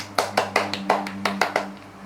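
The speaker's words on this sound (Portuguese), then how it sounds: "Palmas para Lola Cosméticos." A short run of about nine sharp hand claps in an uneven rhythm, close and clear over a faint steady hum.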